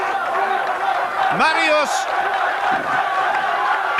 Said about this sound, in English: The crowd roaring him on.